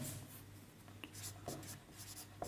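Marker or chalk writing on a board while an equation is written in a maths lesson on tangents and normals; soft, continuous scratchy strokes with a few brief taps, faint and steady, with no talk over it.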